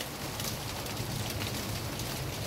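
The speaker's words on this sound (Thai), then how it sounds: "ฝนตกที่ไรถ่ายวิดีโอฝนตกตลอด" Steady rain falls on a Bangkok neighbourhood around eight in the evening, a dense, even hiss of drops that holds close and constant without any break or talk.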